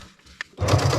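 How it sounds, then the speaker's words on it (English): A sewing machine base-stitches along the top edge of a backpack slip pocket, a few faint clicks followed by a steady, close motor whir as stitching begins. "Now let's go to our sewing machine, and we're going to base stitch along the top edge here."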